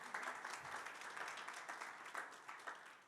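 Audience applause from a conference audience, a steady wash of many hands clapping at moderate distance for a few seconds, tapering at the end.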